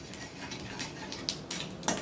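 Whole spices, peppercorns, cloves, cinnamon, cardamom and cumin, fry quietly in a pan while a spoon clinks and scrapes against the metal a few times, with no voices.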